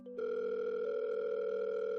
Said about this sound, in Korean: 재우 형이 승현이 형에게 전화를 걸었는데 안 받는 거예요